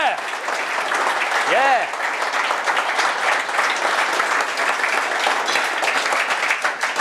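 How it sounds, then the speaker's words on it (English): An audience at a software tester gathering applauds, with steady, dense clapping filling the room while a voice briefly calls out near the start. "Give yourselves a round of applause."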